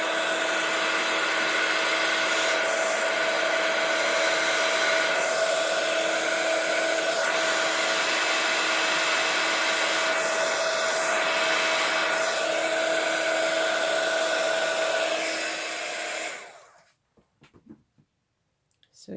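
An embossing heat tool blows a steady, loud whooshing hiss onto a Christmas card for about sixteen seconds, melting icing-sugar embossing powder, then cuts off, leaving a faint quiet tail.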